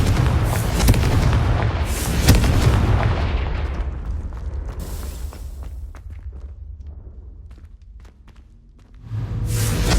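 Fire-curse spell explosions in the Hogwarts Legacy video game: heavy booming blasts and crackling bursts at the start, then fading debris, rumble and footsteps before another loud burst at the end.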